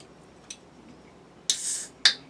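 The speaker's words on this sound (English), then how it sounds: "I'm going to open up my root beer right now." A root beer is opened: a faint click, then a loud hiss of escaping gas and a second sharp snap or fizz, close and alone in a quiet room.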